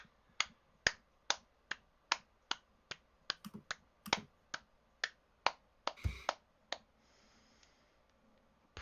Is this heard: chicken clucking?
no